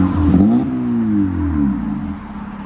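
Exhaust of a 2012 Honda Civic LX with a 1.8L engine, a muffler delete and a 5-inch tip, revving up and settling back in a loud, close, raspy drone that falls and rises again.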